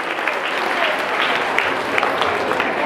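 An audience at a school Republic Day cultural programme claps steadily, a dense, even round of applause held throughout.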